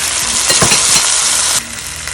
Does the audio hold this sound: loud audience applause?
no